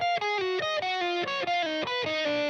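Distorted electric guitar through an Axe-Fx with mostly delay and a little reverb, playing a steady melodic line, each note trailing into repeating echoes, loud and continuous throughout.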